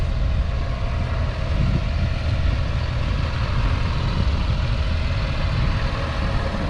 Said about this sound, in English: that's the plough and the tractor.